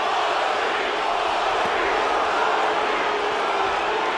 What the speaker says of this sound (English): the Mosley followers letting themselves be heard